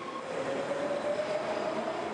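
A metro train rumbles through an underground station with a continuous roar and a faint squealing tone from the wheels, steady and fairly close, with no speech.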